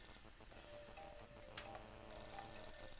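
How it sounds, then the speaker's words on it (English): A telephone ringing in Hotel Dusk: Room 215, a thin, steady electronic ring pulsing on for several seconds at low volume over quiet game ambience. "Why does this always ring at the most inappropriate times?"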